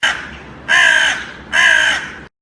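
A crow caws loudly three times in a storytelling sound effect, with harsh drawn-out calls evenly spaced and close, then abrupt silence.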